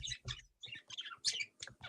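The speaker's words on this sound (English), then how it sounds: "Maybe turn off Damon's sound there, guys, because the birds are eating him" Birds chirp and tweet through a caller's microphone in a rapid run of short, bright calls, fairly close and busy, with no talk over them.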